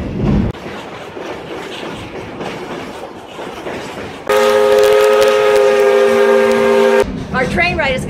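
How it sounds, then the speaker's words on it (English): Nevada Northern steam locomotive number 40 pulling a passenger excursion, with rumbling carriage noise, then a long, loud steady whistle blast of about three seconds that cuts off sharply, and people talking over the running train. "now we're able to ride with engine number 40."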